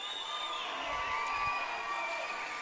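A crowd at a 2017 junior roller derby championship game applauds and cheers the skaters, a steady, dense roar of clapping and voices held at an even level throughout.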